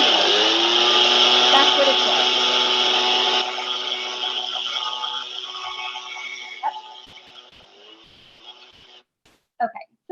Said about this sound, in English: So that's the noise from a leaf blower.